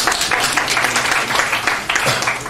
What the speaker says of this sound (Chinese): 应该给自己一个掌声